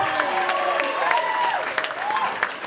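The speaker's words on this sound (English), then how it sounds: "Everybody give a round of applause to my dad." Audience applause at a live comedy improv show, a steady wash of clapping from a room crowd lasting a few seconds, with some scattered cheering and voices mixed in.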